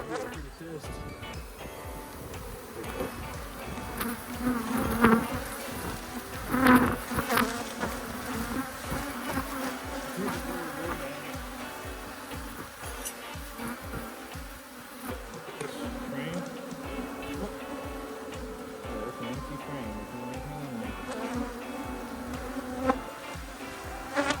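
Honeybees swarm and buzz around an opened hive during a honey harvest on a farm, a dense, continuous drone close by, with people talking underneath and occasional handling knocks.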